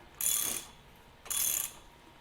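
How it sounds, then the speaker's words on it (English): A ratchet tightens bolts on the radiator base of a 1948 Farmall Cub tractor, two short, close clicking bursts separated by a pause. "Then I just put in all 4 bolts, and I'm going to run those up."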